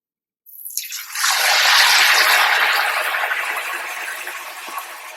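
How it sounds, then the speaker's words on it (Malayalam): A papadam slipped into hot frying oil erupts in a sudden loud, bubbling sizzle that swells within a second, then holds as a dense hiss and slowly eases off. "ഇനി നമുക്ക് രണ്ടാമത് അടുത്ത പപ്പടം ഇട്ട് കൊടുക്കാം"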